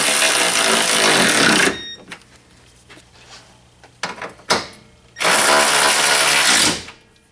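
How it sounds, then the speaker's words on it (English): Power tool tightening 12mm bolts on a 2005 Corolla radiator, two loud sustained whirring bursts with scattered clunks and taps between them. "You screw those in, tighten them down, 12mm."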